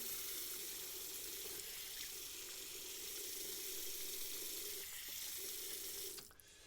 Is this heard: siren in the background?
no